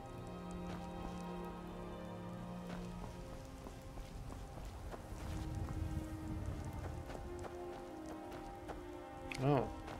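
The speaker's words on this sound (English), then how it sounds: "and it's starting to rain." Steady rain falls in the Skyrim video game world while someone talks over it, the soft hiss continuing throughout with a brief louder sound near the end.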